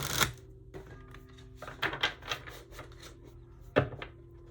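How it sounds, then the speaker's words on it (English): Tarot cards are shuffled by hand in a few quick riffling bursts separated by short pauses, close and fairly soft against a quiet room. "I've already shuffled these many times, but I'll do a few more."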